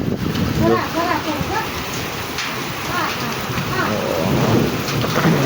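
Thunder rumbles through a heavy unseasonal summer rainstorm with hail in a Gujarat village. The rain hisses steadily and loud, and a person talks over it.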